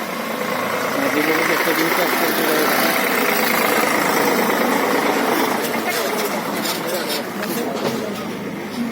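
A tractor engine runs steadily throughout a tractor ride at the Yavat 24 agri-tourism centre, a continuous mid-pitched rumble with faint knocking, joined by rattling and background voices toward the end.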